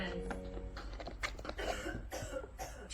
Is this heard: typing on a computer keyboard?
no